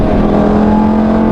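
A Lamborghini Gallardo with an E-Gear transmission revs, its engine giving a loud, close, steady droning howl with no speech over it.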